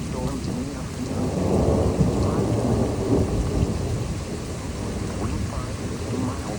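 A loud thunderstorm over Troy, Illinois rolls with deep, sustained thunder over steady heavy rain on surfaces, continuous and close throughout.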